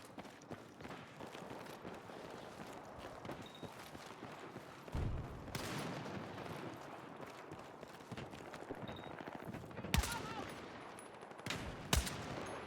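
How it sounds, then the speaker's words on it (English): Hostile machine gun fire in the Battlefield 6 video game: faint, distant bursts and sharp shots break over a constant low battlefield rumble, with louder reports near the middle and end. "Hostile machine gun!"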